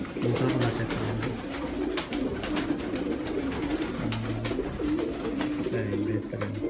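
Several big pigeons on a rooftop give repeated low throaty coos in rhythmic bursts, close and fairly loud over a busy background, with faint voices in places.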